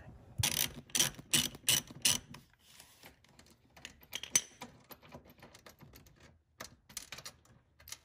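Ratchet loosening 16 mm seat bolts in a BMW E46 M3, with bursts of rapid close clicking, a cluster of quick runs at first, then sparser clicks and short ratcheting spurts, with no talking.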